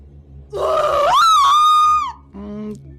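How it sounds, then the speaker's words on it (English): A woman's scream in a video game rises sharply, holds loud and strained for about a second and a half, then breaks off, followed by a shorter, lower vocal groan. "Unfortunately, her scream hadn't aged well."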